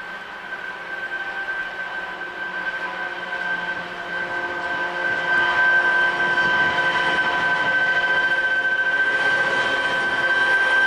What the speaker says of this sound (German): Einfahrt hat nun der Intercity-Zug nach München.